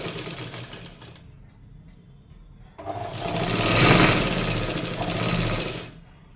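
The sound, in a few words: sewing machine stitching a straight seam on blouse strip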